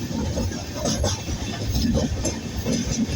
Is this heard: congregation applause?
no